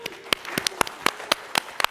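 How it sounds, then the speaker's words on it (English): Scattered, uneven handclaps from a few audience members at a conference keynote, about ten separate claps with no steady rhythm and no speech over them. "That was like the biggest applause I heard in the keynote."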